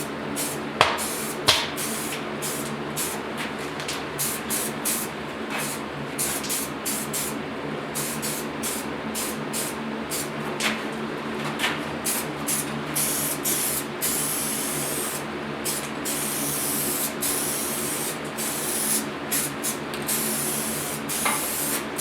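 A spray can coats a plastic grill for a 1972 Ford short box truck in light, even passes, giving repeated short hissing bursts of varying length separated by brief pauses, close to the microphone with steady room noise beneath.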